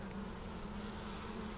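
Honey bees buzzing steadily in a bee yard during orientation flights, a dense continuous hum close by with no talk.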